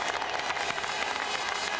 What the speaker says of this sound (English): Difficult one to follow over the noise of the crowd